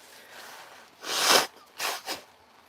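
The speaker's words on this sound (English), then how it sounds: "I need to blow my nose" A single loud, forceful nose blow, followed by two shorter sniffing blows, close by with no talking.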